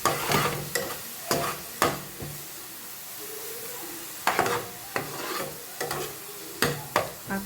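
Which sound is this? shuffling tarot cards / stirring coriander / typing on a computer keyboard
stirring coriander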